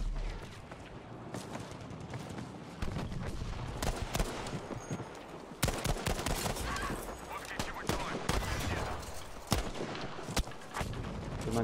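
Gunfire in the Battlefield V video game with an M1 Garand in play: sharp, irregular shots crack repeatedly over steady background game noise, some close and loud, others more distant, with a player talking over the action.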